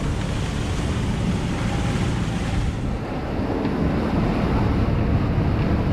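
Strong wind roars across the microphone over steady breaking waves on open sea aboard a sailboat sailing from Cape Verde to Senegal, a continuous loud wash with a brief dip in the gusts midway.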